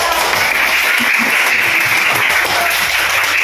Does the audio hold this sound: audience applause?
yes